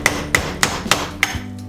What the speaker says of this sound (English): this piece here you can punch back with a hammer